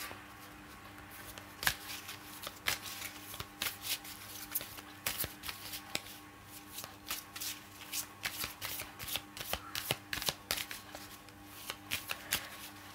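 An oracle card deck being shuffled by hand, a steady run of crisp riffling card flicks close up, with no talking.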